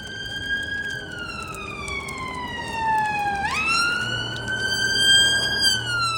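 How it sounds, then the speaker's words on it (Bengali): A wailing ambulance siren sweeps slowly down then rises again, loud and steady with faint street noise beneath, near St James's Park, London. "ওই সামনে একটা অ্যাম্বুলেন্স আসছে বলে মনে হচ্ছে"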